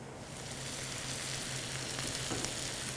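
Shallots and corn frying in reserved oil in a pan, a steady, even sizzle that holds at moderate volume throughout with no talking.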